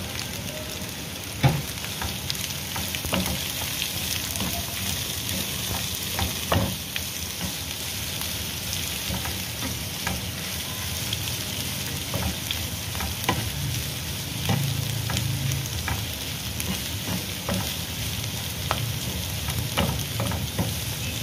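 Sliced onions fry in a pan with a dense, continuous sizzle and crackle, mixed with light stirring scrapes now and then, close and fairly steady throughout, with no voices.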